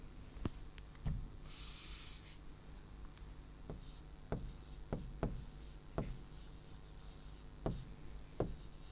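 Pen or pencil writing words by hand on paper, a steady series of short scratching strokes with sharp tapping accents, close and fairly quiet over a low background hum.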